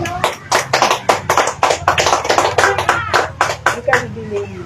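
Church congregation clapping during a Filipino Christian worship service, a dense run of sharp claps in a steady rhythm, loud and close, with voices mixed underneath.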